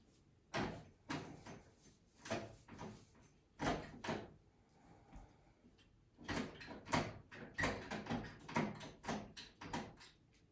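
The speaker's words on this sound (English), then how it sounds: "Cat's trying to bang down the door" Repeated bangs and rattles of a door as a cat bangs on it, in uneven bursts with short pauses, fairly close but soft, with no voices.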